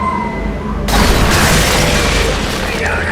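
A cannon fires a cannonball in Tales of Monkey Island with a sudden loud boom that opens into a broad, sustained roaring rush, loud and close throughout.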